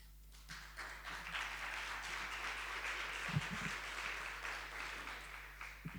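Audience applause at a regional conference on preventing violence against women and girls: a steady wash of clapping from a large room that holds for several seconds, with a few louder individual claps near the middle.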